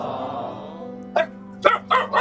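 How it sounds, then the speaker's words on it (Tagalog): A dog barks three times in quick succession, sharp and fairly close, after a quiet stretch of steady low background hum at an empty house. "Ay, may aso."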